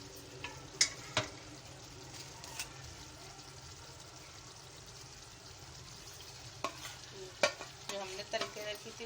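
Fried cauliflower being stirred into a potato curry in a pan, with spatula scrapes and clinks at irregular intervals over a soft background sizzle; no one speaks.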